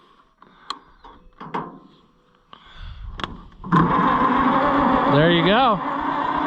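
A car engine cranks and fires up on a NAPA Carlyle jump box, settling into a loud steady idle after a few clicks and clunks, with someone speaking briefly near the start.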